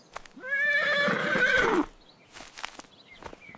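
A cartoon horse gives one loud, close whinny that rises, wavers and then falls for about a second and a half, followed by quieter rustling and faint clicks.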